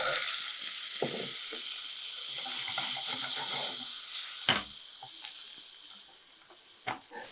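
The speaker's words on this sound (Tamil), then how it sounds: "இதில் லைட்டாக வெங்காயம் தக்காளி வதக்கிடுறோம்" Onions and tomatoes sauté in coconut oil for a pepper paneer masala, giving a steady, close sizzling hiss with scattered utensil clicks and a few sharper knocks.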